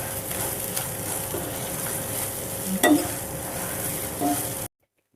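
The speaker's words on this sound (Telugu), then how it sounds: "ఈ దొండకాయ ముక్కలు వేగిన కొద్దికి క్రిస్పీ సౌండ్ వస్తుందండి." Ivy gourd (tindora) pieces frying crisp in a little oil, a steady close sizzle with occasional stirring scrapes and one sharper clink of the spoon, ending abruptly in silence.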